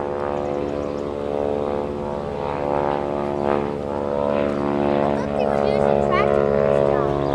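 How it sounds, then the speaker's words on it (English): A crop duster airplane drones overhead with a steady propeller and engine roar, swelling louder as it passes close, while people talk over it. "It's a crop duster."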